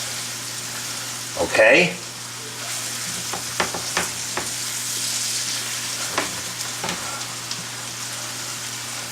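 Garlic and cauliflower hash sizzles steadily in hot oil, with a scrape of stirring early on and soft clinks of a utensil against the pan; a voice speaks briefly.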